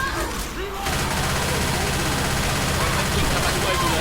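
Dense, continuous gunfire from several weapons during a Left 4 Dead 2 co-op round on the Fatal Freight campaign, loud and sustained throughout with heavy low rumble beneath.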